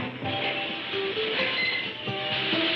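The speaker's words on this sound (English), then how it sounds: "There's the Gold Train now, RJ." Cartoon gold train rolling past, a busy clattering rumble with rhythmic wheel clicks and brief whistle-like tones, steady and fairly loud, with no talking.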